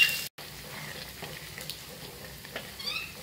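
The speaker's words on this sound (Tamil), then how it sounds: "முட்டை இப்போ ஃப்ரை ஆயிடுச்சு" Eggs frying in oil in a pan for egg biryani, a soft steady sizzle with faint crackles throughout, fairly quiet and with no talking.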